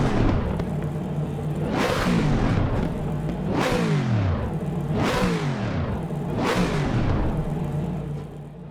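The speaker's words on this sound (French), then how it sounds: "on va écouter son moteur." A race car engine in the racing game Assetto Corsa Competizione revs hard four times, each burst climbing sharply and falling back, loud and close with no talking.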